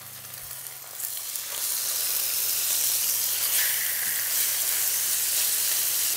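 Meat hits a hot pan and a loud, steady sizzle rises and holds, crackling and hissing close by.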